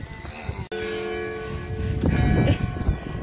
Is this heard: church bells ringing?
yes